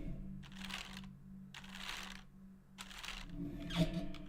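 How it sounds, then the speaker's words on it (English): A computer keyboard being stroked and rubbed by hand, giving soft, broad brushing swishes in several slow passes with a light tap near the end, over a steady low background hum. "I do pet my keyboard"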